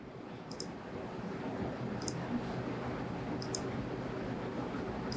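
Computer mouse clicks while a date range is selected in a dashboard, three crisp, evenly spaced double clicks over a faint steady room hum.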